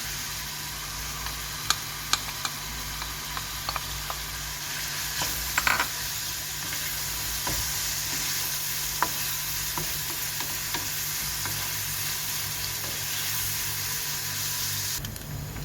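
Chopped onions frying in a hot pan for a minced meat, onion and tomato egg dish, a constant close sizzle broken by frequent scraping clicks of a utensil stirring them, with no talking.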